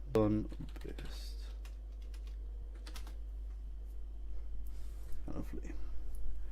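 Rapid typing on a computer keyboard, close and clear, with brief bursts of speech at the start and near the end.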